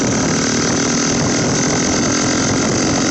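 Untuned V3 turbo engine build spinning up, a steady, loud mechanical whine and rumble holding constant throughout with no pauses, close up.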